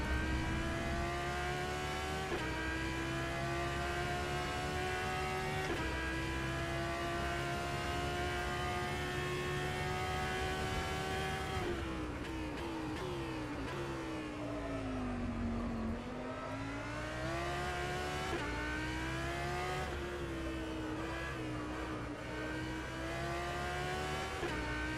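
Audi R8 LMS GT3 racing engine in the sim-racing game rFactor 2 at the Nürburgring, a loud steady drone with rising and falling revs through gear changes, including a dip and climb mid-lap, heard alone throughout.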